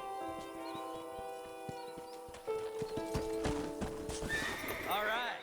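In the Red Dead Redemption video game, a horse's hooves clip-clop steadily while it whinnies loudly near the end, set over a sustained musical score.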